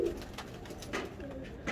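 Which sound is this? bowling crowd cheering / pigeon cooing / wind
pigeon cooing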